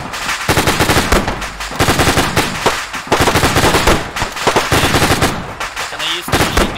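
A machine gun in the video game Kyoshu Island fires loud, dense, rapid bursts almost without pause, with only a few brief gaps between volleys.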